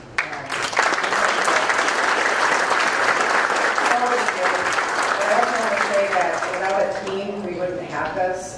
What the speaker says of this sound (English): So I just want to give him a round of applause.